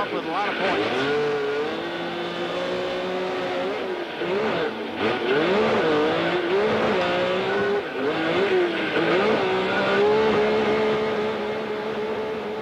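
A Chevy Thunder sport truck engine drones and shifts pitch through gear changes during a Grand National Sport Truck race heat in Las Vegas, loud and sustained, with a commentator talking over it.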